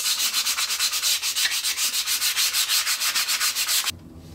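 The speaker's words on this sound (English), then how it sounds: "now we can just give this piece a good sanding all over" Rapid rhythmic strokes of sandpaper rubbing on a wooden toy catapult piece by hand, close and loud, back and forth for several seconds before stopping abruptly.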